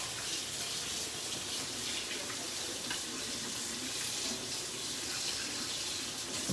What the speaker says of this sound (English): I'm gonna rinse off my hands, clean up a little bit